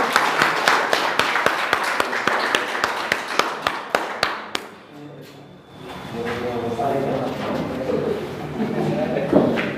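Sharp, rhythmic hand claps ring out from an audience at a school result celebration for class 10 and 12 arts students. The clapping fades after about four seconds and someone speaks.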